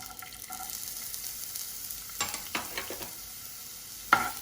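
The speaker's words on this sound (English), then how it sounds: "We'll saute this onion for half a minute." Chopped onion sautéing in hot vegetable oil in a pan, a soft steady sizzle with a few brief stirring scrapes and clinks, heard alone and fairly faint.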